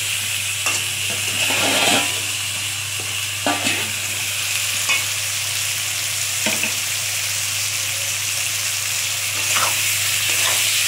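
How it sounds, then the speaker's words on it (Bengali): Ginger and green chili paste fries in hot oil with a steady loud sizzle and hiss, broken by occasional scrapes of stirring, while fish curry with cauliflower and bori cooks. "আদাটা দিলাম, আদা কাঁচা লঙ্কা বাটা, এটাকে আগে দিলাম।"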